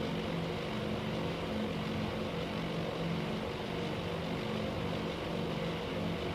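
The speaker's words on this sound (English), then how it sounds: "let's just look at these planes fly in formation" Aircraft flying in formation in the Task Force Admiral war game, a dense continuous propeller engine drone, steady and moderately loud with no voices.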